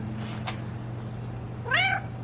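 A cat gives one clear, close meow with a rising then falling pitch near the end, over a steady low household hum and no talking.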